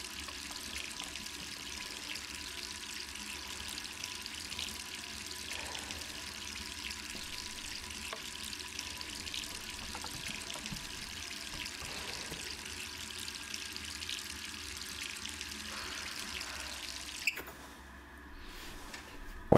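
In the Resident Evil 3 video game, a tap is left running, a steady hissing trickle of water that continues under faint game ambience before cutting off abruptly near the end.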